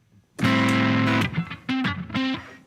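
An electric guitar plays a short groove through a distortion effect, with a long sustained chord followed by choppy stabs and brief held notes, loud and close.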